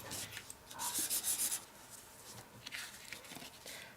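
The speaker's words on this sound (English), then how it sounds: "mark in hashed areas the bits that we want to cut" A pen scratches across paper to hatch out areas for cutting, a close, quiet rubbing scribble that swells into a brisk burst of strokes, then continues in softer, scattered scratches.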